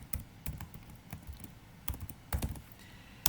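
Fingers type on a computer keyboard in quick, irregular clusters of close, crisp key clicks, with one sharper keystroke at the end and no talking.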